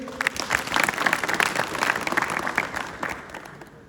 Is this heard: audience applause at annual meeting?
yes